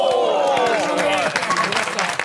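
A studio audience at a Japanese comedy talk show breaks into applause and light cheering, loud and close, with voices talking over the clapping.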